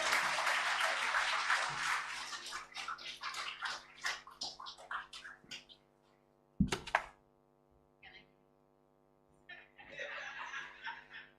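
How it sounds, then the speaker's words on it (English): An audience at a culinary and sustainable agriculture school graduation ceremony claps loudly for several seconds with some laughter, then falls quiet before a brief second burst of clapping. "a round of applause"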